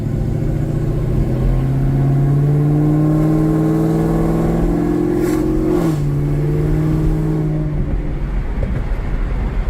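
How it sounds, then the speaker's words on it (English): A 2013 Chevrolet Camaro ZL1 fitted with Corsa exhaust and headers drives past up close, its loud engine note rising steadily then dropping with a gear change, followed by a lower steady drone. "Car sounds really good."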